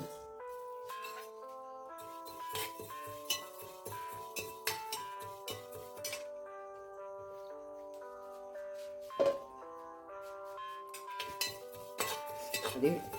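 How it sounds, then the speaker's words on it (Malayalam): Flax seeds rattling and scraping in a pan over a very low flame as a utensil stirs them, with frequent metallic clinks and taps over a faint tonal hum, close by. "ഇനി നമുക്ക് ആ ഫ്ലാക്സ് സീഡ്സ് കൂടെ വറുത്തെടുക്കണം."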